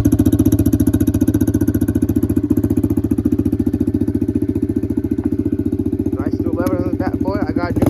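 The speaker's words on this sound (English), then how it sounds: "Go ahead and fire up the bike, let it idle for 5 minutes" A 2020 Honda CRF125 motorcycle engine idles close by, a loud steady low thumping putter throughout, with a voice speaking over it near the end.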